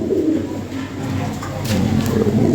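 Caged pigeons with red beaks and red eyes coo softly in low, repeated murmurs close by, against a constant background hum with a few faint higher chirps.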